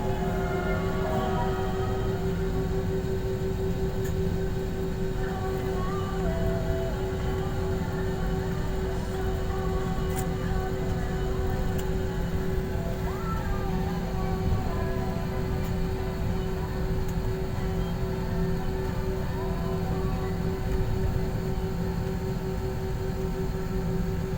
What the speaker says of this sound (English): Flight attendants must now be seated for takeoff.